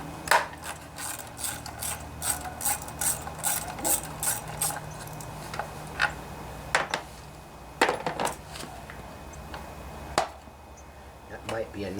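Ratchet wrench loosening 10 mm bolts on the mud flap of a Honda Spree scooter, rapid pawl clicks in close bursts with pauses between, a few metallic clinks of loose parts.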